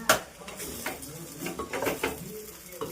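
A utensil scrapes and clinks against a pot while spicy pongal is stirred and mixed, with uneven scraping strokes, light taps and a faint sizzle underneath.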